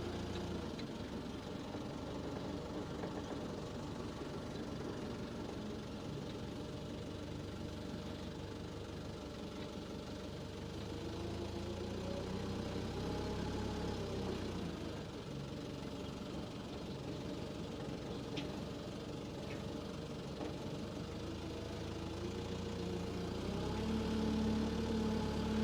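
A forklift engine runs steadily throughout, a low continuous idle hum with a faint knocking texture, holding roughly even in level with a slight swell near the end.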